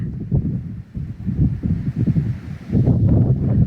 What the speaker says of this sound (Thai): บรรยากาศวิวสวยแต่ว่าลมแรงหนาวค่ะ